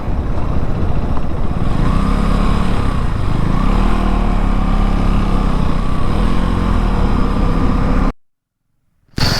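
Steady drone of a motorcycle engine ridden slowly on a mountain pass road, loud and close with gently rising and falling revs, cutting out abruptly near the end.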